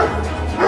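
A dog gives a short, close bark, loud and standing alone, as one dog approaches with another.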